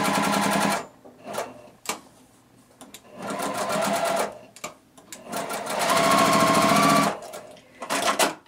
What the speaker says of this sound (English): It really doesn't take much to just sew another seam and put those two pieces together